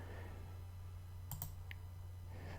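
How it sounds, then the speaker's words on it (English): A stuck key on an old, long-unplayed piano in The Last Door video game, a few quick dry clicks near the middle over a quiet low hum, no voices. "Something is preventing one of the keys from depressing."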